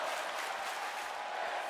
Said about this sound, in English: It's the crowd chanting that this is awesome.